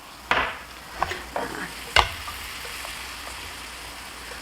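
Kkanpunggi fried chicken is tossed quickly in a pan of reduced sauce. A soft sizzle runs underneath while a few sharp clanks and scrapes of stirring stand out, with no speech.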